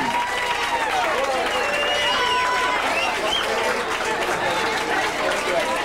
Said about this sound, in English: How about a nice round of applause for our Pro Division?